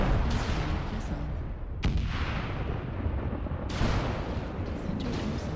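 Incoming missiles strike a player's mech in the online battle game MechWarrior Online, a dense roar of booming blasts with sharp impacts near 2 and 4 seconds.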